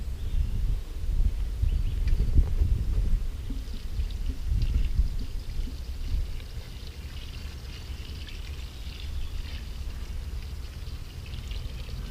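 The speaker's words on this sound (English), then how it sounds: "Then give it a good, thorough water." Water poured onto the soil around a newly planted climbing plant, a steady trickling pour that runs for several seconds, strongest at the start and then easing slightly, heard alone.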